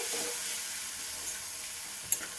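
Spice masala sizzles steadily in a hot pan while being stirred for a cucumber recipe, a constant close frying hiss with a brief sharper scrape near the end.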